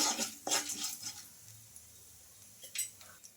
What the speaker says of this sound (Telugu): ఈ పసుపు కూడా వేసేసుకొని ఇలా బాగా కలిపేసుకుందాం